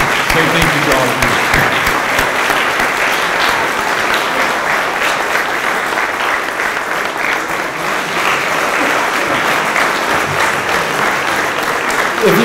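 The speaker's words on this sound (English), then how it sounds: "If you can all join me in a round of applause" Sustained applause from a large audience at an employee service recognition awards ceremony, loud and steady throughout with no pauses.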